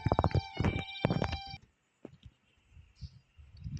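A horse in the Red Dead Redemption video game, played on a phone, lets out a loud harmonic whinny, followed by sparse, quieter hoof thuds and clicks.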